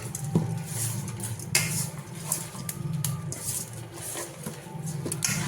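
Chicken biryani ingredients with bay leaves are stirred and mixed in a metal pot, with repeated scraping and clinking of a spoon against the sides, close and fairly loud.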